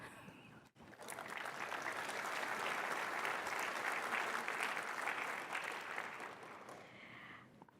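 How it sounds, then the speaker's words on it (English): Sustained audience applause from a crowd at a Windows update tech talk, swelling quickly after a brief pause and holding steady and dense for several seconds before tapering at the end, with no talk over it. "I should hear some claps."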